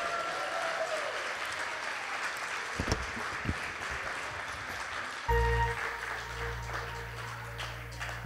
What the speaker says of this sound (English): give me a hand clap of praise